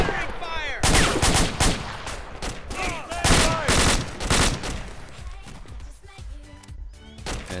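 Gunfire in the Arma 2 war game: loud, close bursts of rapid automatic fire in repeated volleys, with shouted voices of players talking over the shooting.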